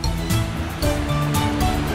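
The Dâmbovicioara river rushes near the Dâmbovicioara cave, a steady close wash of flowing water with faint tonal sounds over it and no clear speech.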